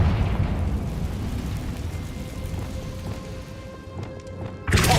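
A Confringo blasting spell goes off in Hogwarts Legacy, a sustained rumbling roar that thins out before a sharp, loud burst hits near the end.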